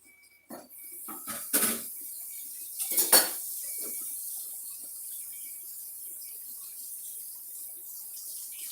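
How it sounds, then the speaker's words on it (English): A cutting board is cleaned off in a home kitchen on a Louisiana homestead, with a few sharp clatters and scrapes of utensils against the board early on, then a quiet hiss like running water for the remainder. "I'm going to clean my board off."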